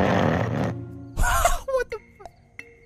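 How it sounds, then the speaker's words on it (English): A loud, rasping snore from a character in the video game Garry's Mod rattles for under a second, then gives way to short grunting and groaning bursts and a few sharp clicks. "I don't think he's gonna snore as loud now"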